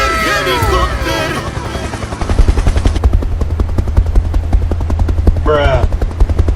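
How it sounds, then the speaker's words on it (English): A helicopter's rapid rotor chop thumps steadily and loudly, heard amid a video game with excited voices shouting and bursts of gunfire. "Helicopter, helicopter!"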